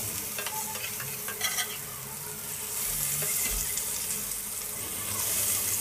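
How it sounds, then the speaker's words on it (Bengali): Eggplant pieces sizzle in a covered pan, a continuous close frying hiss with occasional stirring clatter and a swell of louder spitting toward the end. "এবার আমি বেগুনগুলো উল্টে দেব।"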